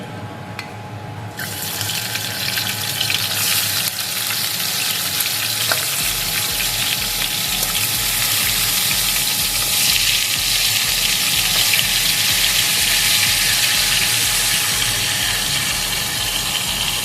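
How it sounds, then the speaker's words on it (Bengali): Fish head frying in hot mustard oil in a wok, a loud, steady sizzle and crackle that fills the whole stretch, joined by a brief water-like splash near the start. "তেলটা গরম হয়ে গেছে, এখন আমি মাছের মাথাটা ভেজে নেব"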